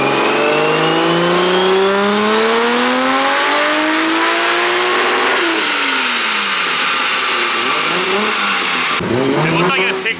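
A Toyota JZX engine running 14 PSI of boost revs hard up toward 7,400 rpm, its rising whine climbing steadily, then dropping back and blipping again; loud and close throughout.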